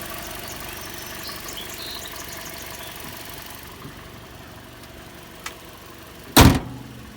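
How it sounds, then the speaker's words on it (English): A car engine idles with a low, even rumble, followed by a faint click and then a loud thump like a door closing. "engine sounds good"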